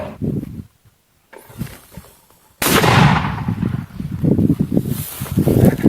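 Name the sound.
gunfire from a gun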